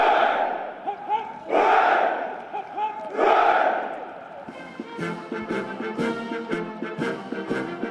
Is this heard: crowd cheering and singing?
yes